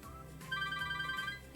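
A telephone ringing with a brief, faint electronic trill of repeated pulsing tones, heard alone over a low background hum.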